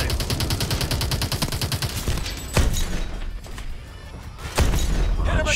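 Rapid automatic gunfire from the 2014 PC game Call of Duty: Advanced Warfare, a dense rattling burst for two seconds, followed by sparser single heavy shots and impacts over a noisy battle background.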